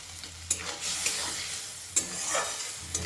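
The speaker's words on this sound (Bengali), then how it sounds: "গ্যাসের ফ্লেমটাকে হাইতে করে খুব ভালো করে নাড়াচাড়া করে একটু কষিয়ে নেবো সব কিছু একসাথে" Vegetables and amodi fish stirred and sautéed over a high gas flame for a winter chorchori, a steady loud sizzle broken by a few sharp spatula scrapes against the pan.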